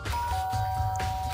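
A two-tone ding-dong doorbell chime rings once in the Danganronpa video game, steady tones sounding over a low background music bed.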